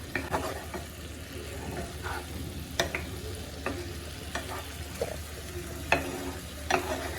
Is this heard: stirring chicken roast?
yes